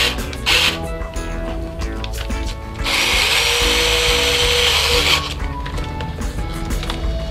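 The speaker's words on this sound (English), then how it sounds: "We're going to use a drill." A power drill whirs in short bursts, then grinds steadily for a couple of seconds as it bores a hole in the center of a homemade fishing bobber, close and loud.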